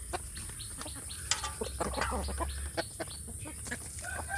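Free-range village hens cluck softly in a coop, scattered short clucks and calls over a steady insect-like hiss, fairly close and moderately quiet, with no talking.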